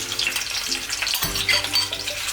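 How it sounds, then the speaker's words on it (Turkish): Chopped onions sizzle in about two tablespoons of oil in a pan, cooking down for caramelizing, with a steady crackling fry and a few soft stirring bumps, close and without talk. "Artık karamelize soğan yapma işlemine geçebiliriz."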